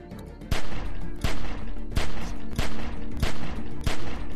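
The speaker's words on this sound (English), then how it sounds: "Shoot at the window and keep that fucker's head down till I get where I'm going" Rapid gunfire from the video game Telltale's The Walking Dead cracks out in a steady series of loud, close shots, roughly one burst every half second, with no talking over it.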